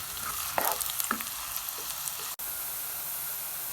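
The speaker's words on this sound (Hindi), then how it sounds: "ऑयल गरम करने के बाद हम इसमें बारीक चॉप की हुई प्याज ऐड कर देंगे, और प्याज को लाइट ब्राउन करेंगे" Finely chopped onion sizzles and fries in hot oil in a pan, a steady close crackle broken by a few louder bursts of spattering and stirring, with no talking.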